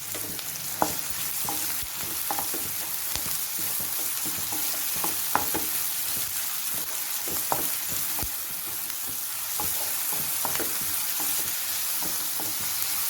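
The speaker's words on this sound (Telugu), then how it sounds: "గోల్డెన్ బ్రౌన్ కలర్ వచ్చే వరకు బాగా వేయించుకోవాలి ఎర్రగా ఉల్లిపాయలు" Sliced onions frying with salt in hot oil for a Guntur-style prawn curry, a steady close sizzle with repeated scraping stir strokes and small pops, no voices.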